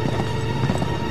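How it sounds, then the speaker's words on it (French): Horse hooves clip-clopping in the video game Uncharted 3, a loud rapid galloping rhythm close by, mixed with low game rumble. "Mon cheval est là."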